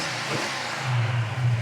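A freshly rebuilt, non-stock Hemi V8 with Sniper electronic fuel injection in a Dodge Challenger rumbles at idle, then swells into a deeper, louder rev partway through the short stretch, close by and without talk.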